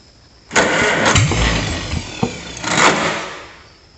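A car engine cranks on its starter for about half a second, then catches and runs, the loud running sound holding with a couple of brief surges before easing at the end; no one speaks.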